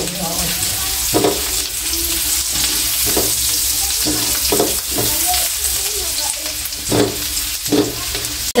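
Garlic fries in a pan with a loud, continuous sizzle, broken by periodic stirring knocks and scrapes of a spoon against the pan.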